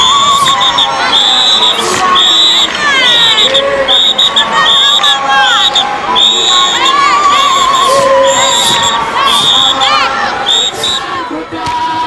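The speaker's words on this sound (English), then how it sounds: "Women usually accompany men's dances with clapping and high-pitched ululations called" Basotho women in Lesotho ululate in high, wavering trills over steady clapping to accompany the men's mohobelo dance. The sound is loud and continuous, with bright ringing calls rising and overlapping above a dense crowd throughout.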